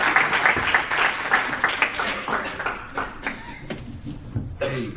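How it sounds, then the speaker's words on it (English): Conference attendees clap to welcome a sustainable-architecture speaker, starting as a loud burst of applause that thins into scattered individual claps and a few chuckles, with murmuring voices audible as it dies away. "Please welcome him with an applause."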